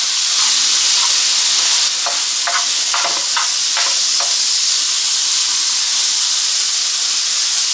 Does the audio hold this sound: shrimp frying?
yes